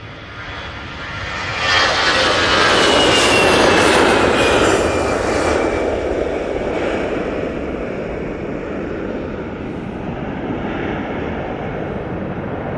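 An EasyJet Airbus A320-200 starts its takeoff roll, its jet engines building into a loud, steady broadband roar that swells early and then holds, heard alone without talk.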